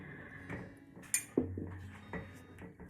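A spoon stirs summer fruit trifle ingredients in a bowl, giving a few soft, sparse clinks and taps against the dish, quiet and close, with a faint background hum.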